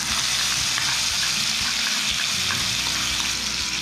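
Onion paste, made from two medium onions, fries in a pan for fish rezala, giving a loud, dense, unbroken sizzle close by with soft stirring underneath.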